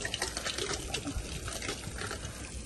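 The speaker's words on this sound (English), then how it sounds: "And we're going to add a little bit of water, too, because it makes it fluffy." Water poured into cornbread batter, a steady trickling, splashing pour that runs on without a break, close by and moderately loud.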